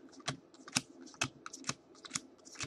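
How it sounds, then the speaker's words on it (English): Magic cards dealt into a simple three-pile shuffle give a run of about six quick, crisp taps and flicks at a steady, uneven pace, fairly close and quiet with no voices. "So I'm going to try to shuffle it up like this a little bit."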